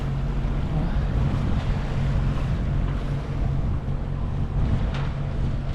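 A sailboat motoring under engine across the open sea near Martinique, with a steady low engine drone blended with wind and wave wash, loud and continuous throughout with no voices.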